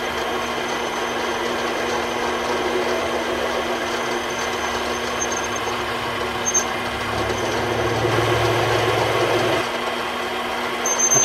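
A lathe cuts down a bullet being made into an earring, giving a steady mechanical whir with a low motor hum that swells slightly near the end, close and continuous with no talk.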